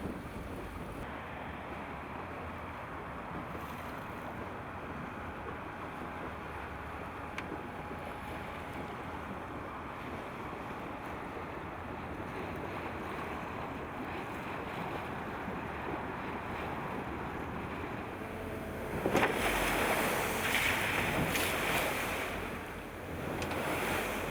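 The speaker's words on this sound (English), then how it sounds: "we've nose dipped into the waves and they've come right up over the screen" A motorboat on the Bay of Biscay pushes into waves, its bow dipping so spray comes over the windscreen; a steady roar of wind, hull and water runs throughout, swelling into a louder wash of splashing near the end.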